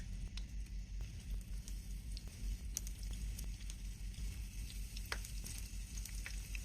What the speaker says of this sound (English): Then place the shrimp into the pan one by one.